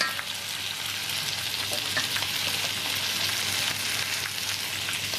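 Oil sizzles steadily in a pan, a continuous bright crackle with faint stirring throughout, close and alone without talk.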